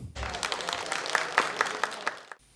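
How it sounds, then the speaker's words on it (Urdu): A studio audience applauds during a Pakistani TV show, with a dense burst of close clapping that swells and then cuts off abruptly after about two seconds. "آپ سب کی بھرپور تالیوں سے"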